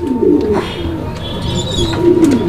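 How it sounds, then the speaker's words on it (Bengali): Bombay pigeons coo in low, throaty rolling calls, several birds overlapping close by against a faint background hum. "এগুলো মূলত হচ্ছে আপনার বোম্বাই কবুতর"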